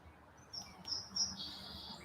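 Small birds chirp and tweet outdoors in short, thin calls, some rising and sustained, heard at a moderate distance over quiet background.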